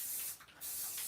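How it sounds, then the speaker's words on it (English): Gold spray paint hisses from an aerosol can in a steady close burst, briefly dipping mid-spray before the hiss returns, with no talking. "Usually in spray painting"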